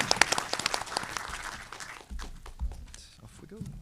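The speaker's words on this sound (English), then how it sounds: "I think we can all join them in a round of applause" An audience at a policy conference on Antarctica gives a round of applause for a panel. Dense clapping at first, thinning out after about two seconds into scattered claps, with muffled movement and faint talk.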